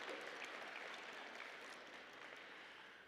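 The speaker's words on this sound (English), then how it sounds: "give them a round of applause" Crowd applause at an awards banquet fills the room, a dense steady patter of clapping that slowly tapers slightly toward the end.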